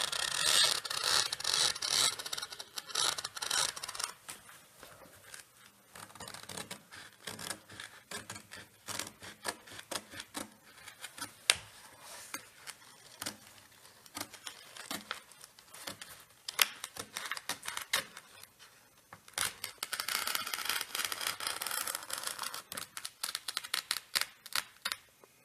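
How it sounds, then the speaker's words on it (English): Scissors snip and tug through Oratex aircraft covering fabric in a run of close, crisp, irregular cutting and rasping strokes, louder at the start and end. "the Oratex material cuts pretty easily"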